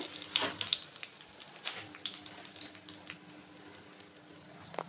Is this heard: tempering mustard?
yes